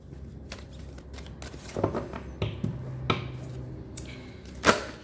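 Tarot cards being shuffled and handled by hand, soft riffling and flicking with a few sharper snaps and taps, close and fairly quiet with no talk.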